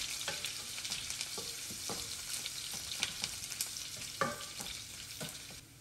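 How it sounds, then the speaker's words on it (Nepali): Onions with cumin and coriander fry in a pan, producing a constant close sizzle broken by sharp scraping clicks as a utensil stirs them now and then. "यसलाई चाहिँ हल्का ब्राउन हुने गरी म यसलाई चाहिँ भुट्छु"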